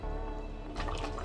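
Water splashes and trickles into a simmering pot of Nigerian banga soup (ofe akwu) over a bubbling, hissing background, close and brief.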